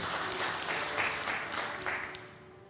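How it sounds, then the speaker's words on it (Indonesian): A church congregation claps together during an Indonesian worship service, a dense, steady burst of applause that fills the room and holds at an even level before tapering slightly at the end. "Tepuk tangan buat Tuhan."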